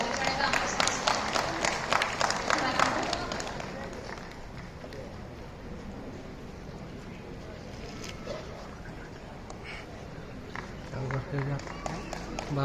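Crowd of spectators clapping in welcome at an outdoor block-level livestock fair, loud sustained applause at first that thins into scattered claps and background murmur.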